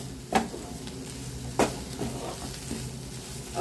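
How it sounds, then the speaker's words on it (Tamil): Cauliflower stir-fry sautés in a pan with a steady low sizzle, broken by two sharp spatula scrapes near the start, close by and without speech. "இது அப்படியே வதங்கி வரட்டுங்க"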